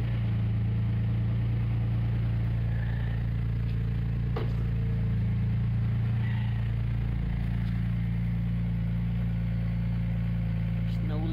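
A Porsche 996 Turbo engine idles steadily nearby after a restart, a low, even hum with a couple of faint clicks and small shifts in tone over about eleven seconds.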